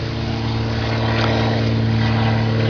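Airplane flying overhead, a steady broad engine drone with low tonal hum that holds at constant loudness throughout, no talking over it.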